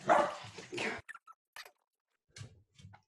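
A golden retriever gives a few short, soft barks and yips indoors, close by, after a moment of overlapping talk.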